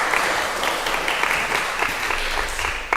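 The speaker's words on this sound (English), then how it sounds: "Yes, we can applaud. That's a thing to celebrate." Steady applause fills a congregation's worship hall, a dense continuous wash of many hands clapping at an even level for about three seconds with no talk over it.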